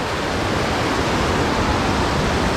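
Strong water rushing at Kacharam waterfall in Kanthalloor, a steady, dense roar that holds at the same loud level without pause.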